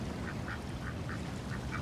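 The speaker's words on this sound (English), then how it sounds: "The ducks are still here." Ducks quack in a quiet outdoor setting, a run of six or so short, faint calls spaced evenly over a soft background hiss.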